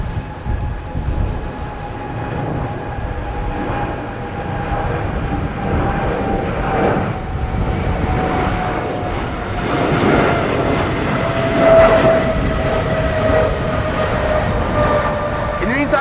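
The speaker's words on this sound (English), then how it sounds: "The airplane arriving from Johannesburg is going around." A jet airliner arriving from Johannesburg goes around overhead at Schiphol Airport, roaring steadily for a long stretch, a broad rumbling drone with faint whining tones, slowly swelling and fading.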